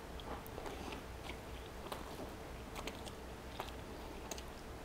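Someone eats a grilled cheese sandwich close to the mic, with faint, irregular bites and soft crunchy chewing ticks spread through a quiet stretch.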